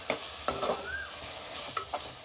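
Tomatoes, curd and ginger garlic paste are stirred in a pan for prawn biryani, with a soft sizzle under several distinct scraping strokes of a spoon against the pan.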